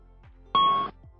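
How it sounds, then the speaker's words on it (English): A single Airbus A320 master caution chime, a steady two-tone ding lasting about a third of a second, sounds clearly over a low background hum. "You hear the chime and see the master caution lights."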